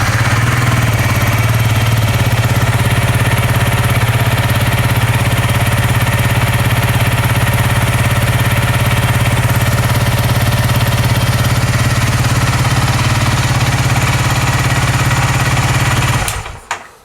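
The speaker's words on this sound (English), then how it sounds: "So now I want to start the engine." A Honda CRF300L motorcycle engine idles loudly and steadily for a long stretch with a low, even rumble, then cuts off abruptly near the end.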